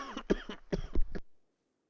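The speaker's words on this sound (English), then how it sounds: "Had a bit of a coughing fit there" Several harsh coughs come in a quick burst close to the mic, then stop and leave near silence.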